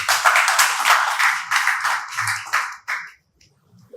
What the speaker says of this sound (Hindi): कृपया इनके लिए जोरदार ताली बजाएं।